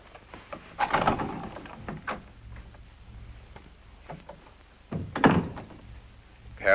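Loud, uneven knocks on a wooden door in a 1952 comedy film: a cluster of thumps, a pause, then another burst, alone in a quiet room.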